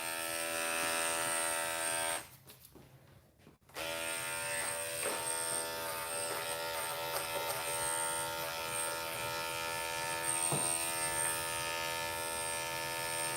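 Electric clippers buzz steadily through a Chihuahua's long-grown coat during an at-home grooming shave-down, a close, continuous motor whine that briefly stops and restarts, with no speech.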